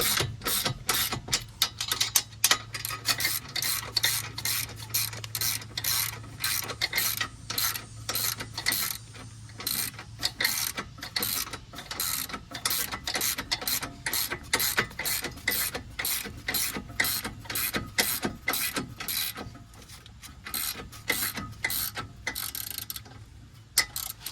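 A hand ratchet clicks in rapid, uneven bursts for over twenty seconds while tightening 3/4 inch strut nuts and bolts during a front strut and bearing replacement on a Subaru Ascent, close and loud with no talk.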